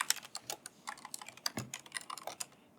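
Rapid typing on a separate computer keyboard, plugged into a Mac laptop, during a live coding demo, with uneven bursts of clicky keystrokes at close range and no talking.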